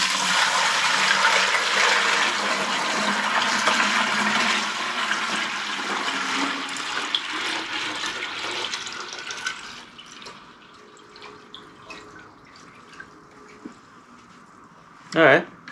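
Water runs and splashes steadily into a container of about five gallons used with a DTF printer, loud and continuous for about ten seconds before easing into quieter trickles and a few faint clinks.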